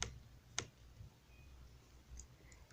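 A single quiet computer mouse click near the start with a second click just after half a second, both faint against a low background hum, no speech.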